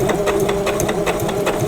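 Sewing machine stitching an eyeglass case at a 2.5 stitch length, a steady close rapid mechanical chatter of the needle running continuously with regular rhythmic ticks.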